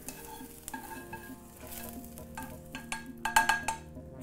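Fried vegetables tumbled from a pan into a pot for celery soup, with clattering stirs and scrapes, a soft sizzle underneath and a cluster of sharp metallic knocks near the end.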